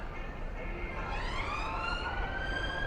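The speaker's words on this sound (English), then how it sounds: "we've got sirens again" An emergency vehicle siren wails in the distance, its rising tone swelling over steady street noise along a Blackpool bus route.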